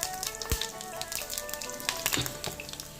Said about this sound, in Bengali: তেলটা গরম হয়ে গেছে এর মধ্যে এখন জিরে দিয়ে দিলাম আর শুকনো লঙ্কা দিয়ে দিলাম